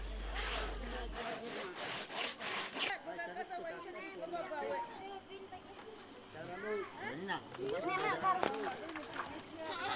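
Manioc roots are scraped on a grater to make tapioca, a rhythmic rasping and rubbing that repeats in uneven strokes, with voices talking nearby and faint birds in the background.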